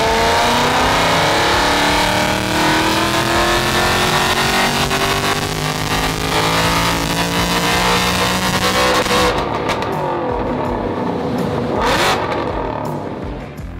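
A supercharged Ford Mustang Bullitt limited edition with long-tube headers, custom ECU tuning and about 830 horsepower revs loudly and close up, its engine note rising and sweeping in pitch before easing off at the end.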